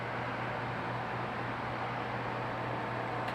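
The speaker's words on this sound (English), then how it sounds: "The air conditioner is running right now." An air conditioner running aboard a 1989 40-foot Hunter Legend sailing yacht, a constant broadband whoosh with a low steady hum underneath, even and unbroken throughout, with no voices.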